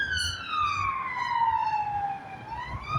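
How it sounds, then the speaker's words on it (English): An emergency vehicle siren wails outside, a single long falling-then-rising tone that stays moderately loud and steady against faint background rumble, with no talking over it. "What kind of siren is that?"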